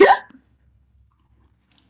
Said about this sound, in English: I couldn't tell if that was a sneeze or not.